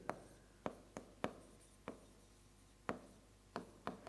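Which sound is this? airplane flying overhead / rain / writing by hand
writing by hand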